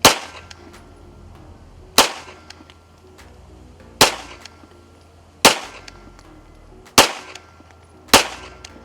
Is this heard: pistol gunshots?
yes